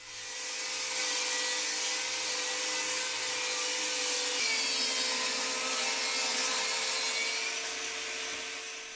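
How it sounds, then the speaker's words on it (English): Steady broadband table saw whine as the blade rips rounded edges off a wooden board, loud and continuous for the whole stretch with a slight shift midway and no voices. "I'm going to raise the blade on the table saw just above the thickness of the wood, and then first I'm going to rip off those rounded edges"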